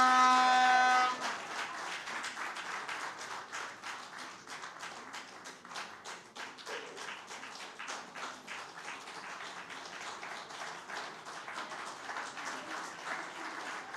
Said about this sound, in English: Another round of applause for our founder and executive director, Daniel, for your wonderful remarks